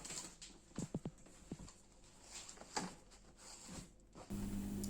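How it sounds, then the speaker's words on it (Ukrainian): A cardboard box holding a Riwall Pro Hartmann 2000W washing vacuum cleaner is opened up close, with scattered scrapes, flap thumps and rustling taps at an uneven pace, faint and intermittent, ending in a steady low hum. "Відкриваємо коробку і що ми тут бачимо."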